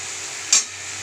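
Pre-fried prawns are turned over in a pan of sizzling sauce, one short scrape or clink rising over a steady close frying hiss, and no one speaks.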